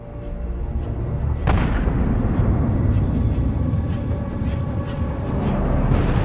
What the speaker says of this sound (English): Another explosion of a turtle tank.